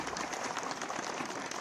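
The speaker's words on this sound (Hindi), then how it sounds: "जोरदार तालियों के साथ" A crowd at an oath-taking ceremony for dairy union members in Dehradun claps in a brief, dense burst of applause that sounds moderately loud.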